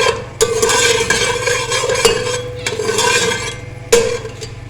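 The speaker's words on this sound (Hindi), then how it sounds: "थोड़ा सा हम इलायची को भूनेंगे।" Whole green cardamom pods are roasted in a pan for carrot dessert, with a spoon scraping and stirring in repeated close strokes punctuated by sharp metallic clicks against the pan.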